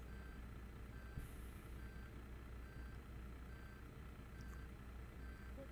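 A MAN Lion's Coach bus reversing in Euro Truck Simulator 2, Istanbul, gives steady evenly spaced reversing beeps over a low engine rumble, without any talk.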